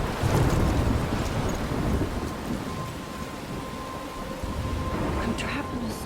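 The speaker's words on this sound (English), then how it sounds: "I'm trapped in a storm?" In the Life is Strange video game, a thunderstorm rolls with heavy rain, gusting wind and low thunder rumbles, loud and continuous, with a voice speaking over it.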